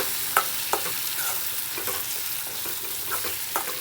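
Sliced bitter gourd stirred with squeezed lemon juice in a frying pan, a soft continuous sizzle broken by scraping stirs and a few sharp spoon taps against the pan, with no talking.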